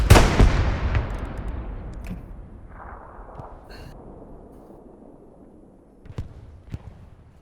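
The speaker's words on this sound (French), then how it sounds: "on a lancé l'artillerie" In the WWII shooter Hell Let Loose, a heavy artillery blast erupts close by and rumbles away, then a couple of sharper, more distant impacts land a few seconds later.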